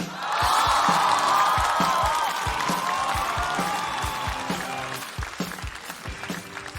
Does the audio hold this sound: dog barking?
no